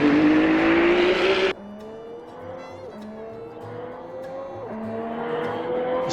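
A Ferrari 499P LMH Le Mans prototype engine in Assetto Corsa revs high, then drops abruptly to a lower steady drone with a couple of gear-change dips, loud and close throughout.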